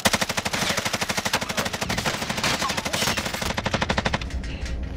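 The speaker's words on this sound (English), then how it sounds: "Okay, I'm getting shot from two different angles." Rapid automatic gunfire from the Call of Duty Warzone battle royale game on the Caldera map, loud close bursts firing in a steady rhythm for about four seconds before cutting off, with no talk over it.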